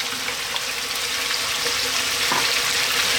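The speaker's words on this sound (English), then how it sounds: "let's drop in our potatoes" Potatoes dropped into a hot pan already holding chicken for a one-pan creamy garlic dish, setting off a steady, close broadband sizzle and frying hiss that runs throughout with a brief clatter near the end.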